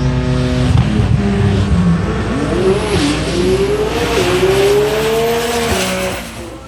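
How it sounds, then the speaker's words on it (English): A 2019 Lamborghini and a 2020 Nissan GTR drag race at the TX2K event in Texas. Loud, close engines roar and rev with rising pitch through gear changes, a tire chirp early on, then fade as the cars pull away. "2019 Lamborghini and Luna Tran. Tran out of Garland, Texas, 2020 model Nissan GTR left side"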